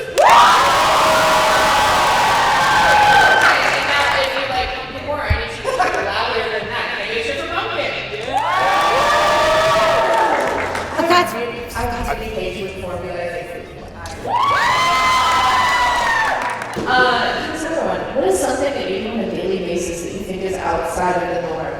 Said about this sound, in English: Can I get a cheer for Floof?